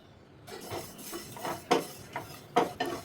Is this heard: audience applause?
no